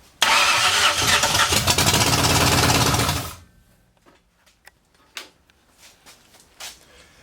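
A 1964 Ford F100 truck, off the road since the 1990s, cranks and its engine roars loudly for about three seconds, then cuts out, leaving quiet clicks and light knocks nearby.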